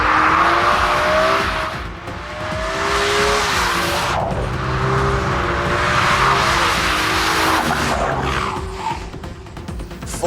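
An Audi RS4 B7 with four-wheel drive slides sideways at steep angles, tires squealing in long wavering tones over a steady, loud engine roar throughout, with no talking.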